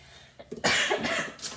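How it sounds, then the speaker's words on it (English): A person coughs a few times in quick succession, close and fairly loud, breaking up a pastel art tutorial in a home crafting session. "I'm coughing"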